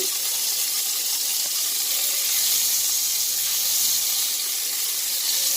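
Beef pieces for a stew brown in a hot pan with a steady, loud, broadband sizzle that holds evenly throughout, close up and without speech.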